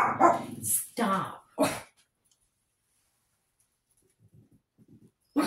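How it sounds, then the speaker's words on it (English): Several chihuahuas bark in a house in sharp, close bursts mixed with a person's voice, then the yapping fades to faint, scattered yips before one more loud bark at the end. "They're good little guard dogs."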